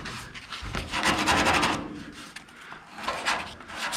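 Hand sanding of Bondo body filler on a sandblasted truck cab, a steady back-and-forth rasping scrape repeated in close, continuous strokes with short pauses.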